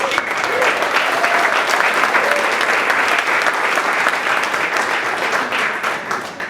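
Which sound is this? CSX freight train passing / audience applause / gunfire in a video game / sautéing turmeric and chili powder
audience applause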